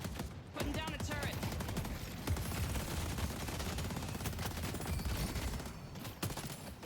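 A turret in the video game Deadlock fires in dense, rapid bursts of gunfire that run almost continuously, loud and close within the game's mix.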